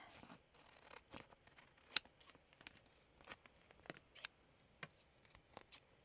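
Scissors cut through paper for junk journal embellishments, a close, quiet series of crisp snips and clicks in an uneven rhythm, with no talking.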